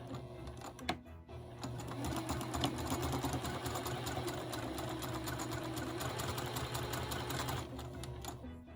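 A sewing machine stitches fabric pieces together for a butterfly log cabin quilt block, giving a steady, rhythmic mechanical whir at low volume after a brief start-stop at the beginning.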